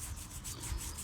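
An old patented metal piston rod found while metal detecting in old houses, rubbed clean by hand in brisk, close back-and-forth strokes with a gritty scraping texture, with no talking.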